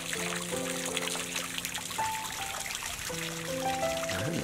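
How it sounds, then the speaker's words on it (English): Cold water trickles steadily at a campsite pond at Elk Creek Campground, a continuous close babble under faint outdoor ambience with a few tonal chirping notes. "There's some nice cold water."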